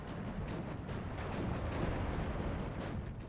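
A wagon vehicle attacks Panzergrenadier infantry in Steel Division 2, heard as a steady, dense roar of combat noise with rapid overlapping bursts and thuds, moderately loud throughout.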